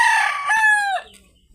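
A rooster in a small backyard chicken coop lets out one loud, close crow that rises and then falls away, followed by a moment of near silence.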